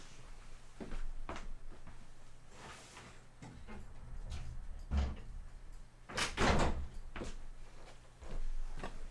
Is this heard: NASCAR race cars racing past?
no